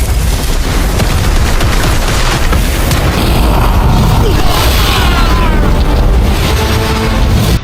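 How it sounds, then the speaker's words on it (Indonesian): Successive explosions in a donghua fight scene, a loud dense barrage of booms and bursting blasts rolling on without pause, with a voice partly under the din. "Suara ledakan beruntun itu bukan berasal dari benturan fisik"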